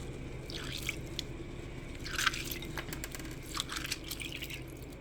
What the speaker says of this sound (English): So when you get these beans ready to cook, you make sure you wash them really good.